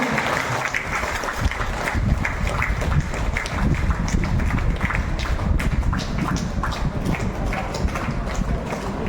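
Steady, dense applause from an audience fills a Farmers' Day ceremony honouring farmers at Peravoor, continuing loudly and evenly throughout without a break.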